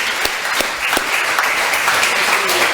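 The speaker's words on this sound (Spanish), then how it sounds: "¿Cuánto le dan un aplauso al Señor?" Steady applause from a church congregation fills the room, a dense wash of many hands clapping at once, fairly loud and continuous throughout.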